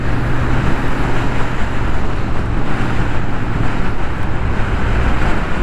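Steady, loud engine drone and wind rush from a Royal Enfield motorcycle ridden along a country road through Provence olive groves, a continuous low rumble with no talking.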